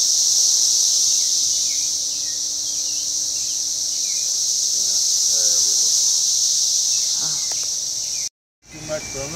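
A loud, unbroken high-pitched drone from a cicada chorus in Topeka, Kansas, in June fills the scene, with faint background sounds underneath before a brief cut near the end.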